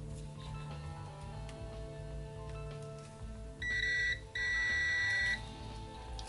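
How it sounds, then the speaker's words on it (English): A multimeter's continuity tester gives a steady electronic beep twice in quick succession, with a brief gap between the tones, over a low background hum. "My voltmeter, as do most voltmeters, has a continuity tester."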